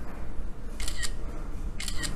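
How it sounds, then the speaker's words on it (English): An iPhone camera shutter sounding with silent mode switched on, two crisp shutter clicks about a second apart over a low background hum. "it's still a shutter sound"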